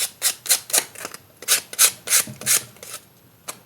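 A papery card pocket is rubbed against a journal page in a dozen quick, dry scratchy strokes, close and fairly quiet, with a short pause before a final stroke.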